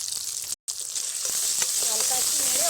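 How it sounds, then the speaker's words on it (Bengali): Turmeric, red chilli and Kashmiri chilli powders fry in a pan, giving a loud, close, constant sizzle with a brief cut near the start and light stirring scrapes later. "2 থেকে 3 মিনিটের জন্য মশলাটা ভালোভাবে কষে নেব।"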